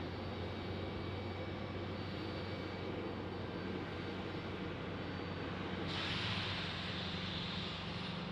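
An American Airlines Boeing 737 Max 8 jet at Phoenix Sky Harbor, a steady broadband engine roar held at an even level throughout, brightening with a hiss near the end, with no voices.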